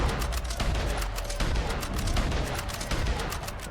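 Rapid gunfire from a firearm in the Red Dead Online video game, a dense stream of shots crackling fast and steadily with little pause, loud and continuous without talk.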